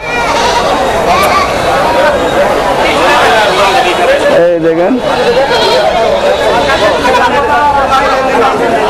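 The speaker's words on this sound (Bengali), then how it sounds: "এই ভাই অলরেডি দেখেন অনেক ছাগল কিন্তু এখানে কিনছে" Goats bleat at a busy village livestock market, with one clear nearby bleat rising over a steady din of crowd chatter and talking voices.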